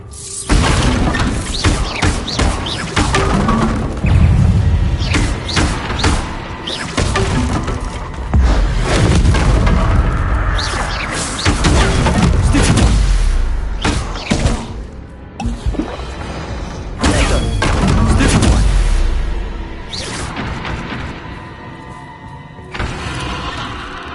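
Bombarda spell blasts in Hogwarts Legacy burst out loud and repeatedly, each a heavy boom followed by crashing, splintering debris, packed close together across the stretch.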